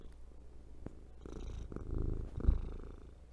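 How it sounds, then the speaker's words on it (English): A cat purrs close up, a soft low rumbling that swells gradually in loudness, with a small bump near the end. "You hear her purring?"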